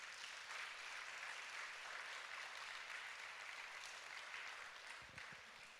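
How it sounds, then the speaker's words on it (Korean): A church congregation applauds a missionary during a Wednesday worship service, giving a steady, fairly faint wash of clapping that holds throughout and eases slightly near the end. "우리 이금수 선교사님 뜨거운 경계 박수 보내길 바랍니다"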